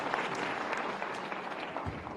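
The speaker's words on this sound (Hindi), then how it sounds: "जोरदार ताली बजा दो" Loud, steady applause from an audience at a youth dialogue event in Bhopal, a dense wash of clapping running throughout with no break.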